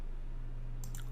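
A single computer mouse click, short and crisp, lands near the end over a steady low electrical hum.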